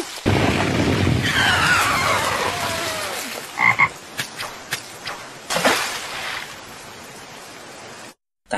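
A large summoned toad from the Naruto anime sounds amid a dense, roaring scene, with a rising squeal, several short sharp hits and a boom, all loud and continuous before cutting off.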